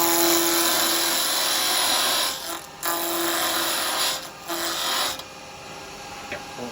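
Wood lathe spinning a workpiece while a fingernail roughing gouge cuts it down, a steady loud whirring hum broken by brief pauses as the tool lifts off, no talking.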